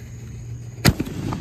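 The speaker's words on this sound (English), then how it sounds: "we just out here enjoying the fireworks" Fourth of July fireworks go off outdoors at night: a single sharp, loud blast lands partway through, followed by a couple of smaller pops over a steady low background rumble.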